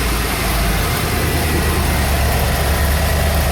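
A 1993 Ford Econoline engine idles roughly, a loud, close, continuous low rumble with an uneven, shaky texture and no voices.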